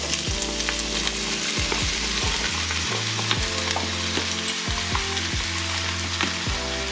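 Onions and chunks of butternut squash fry in olive oil in a pan, giving a continuous close sizzle broken by repeated scraping and clattering as the pieces are stirred. No one speaks.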